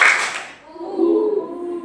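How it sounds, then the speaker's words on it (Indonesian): A classroom of pupils claps hands together in one short, crisp burst, then a teacher's voice carries on alone at close range. "Tepuk 1"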